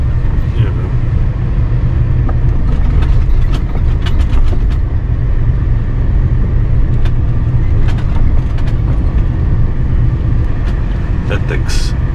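A truck engine drones loud and constant while driving over a potholed, long-unrepaired road in a truck-driving video game, with occasional knocks and clatter from bumps over the hum.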